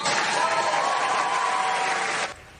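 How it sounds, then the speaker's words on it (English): Applause and cheering after an astronaut crew capsule splashdown, a dense, loud roar of clapping and crowd noise that holds steady before cutting off abruptly near the end. "the applause heard around the world into space."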